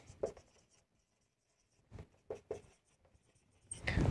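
A pen scratches out handwritten numbers on paper during an accountancy lesson, a few short close strokes separated by a silent pause, quiet and with no speech.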